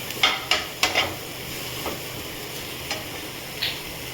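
A spoon scrapes and clinks against a pan while broccoli is being stirred, a few sharp close taps early on, then softer occasional strokes over a faint steady hiss.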